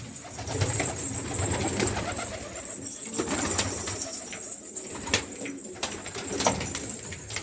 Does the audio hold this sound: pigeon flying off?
yes